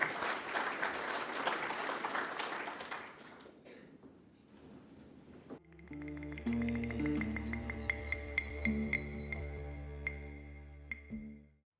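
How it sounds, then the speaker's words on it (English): An audience at a state planning conference plenary session claps for several seconds, then the applause fades and gives way to a recorded musical intro with sustained tones and plucked notes. "Give her a clap."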